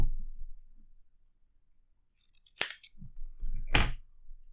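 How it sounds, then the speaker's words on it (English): Scissors snip through cotton wick on the build deck of an Oxva Arbiter Solo RTA, two sharp close cuts separated by a short pause with soft handling noise around them. "I've been trimming my cotton more or less to the outside of the deck."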